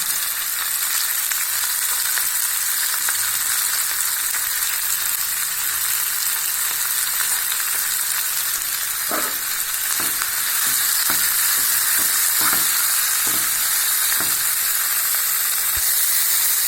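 Beaten egg and tomatoes fry in a pan with a dense, continuous sizzle, and from midway a run of spatula scrapes and knocks against the pan joins in, close up with no voices.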